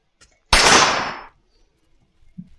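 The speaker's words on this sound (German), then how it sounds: "Also auch MP-Schüsse." A single sharp submachine gun shot in a video game cracks loudly and decays over under a second, followed by quiet.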